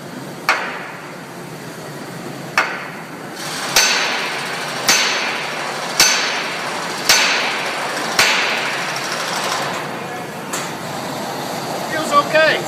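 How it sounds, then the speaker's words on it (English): Heavy blows from a big Wilton hammer in a car garage, freeing stuck brake rotors: about eight sharp, loud metallic strikes spaced a second or two apart over a steady background hum. "A really big frickin' hammer when those stupid rotors will not come off"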